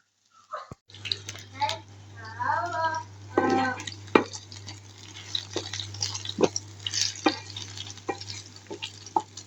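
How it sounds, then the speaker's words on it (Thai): Tomato and green onion stir-fried in a pan, with soft scraping and stirring clicks over a quiet sizzle, interrupted by a few sharper knocks of the utensil against the pan. "ผัดพอให้มีกลิ่นหอมนะคะ"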